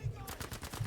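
Rapid gunfire in the shooter video game Battlefield V, a quick rhythmic string of muffled shots heard fairly faintly in a very short burst.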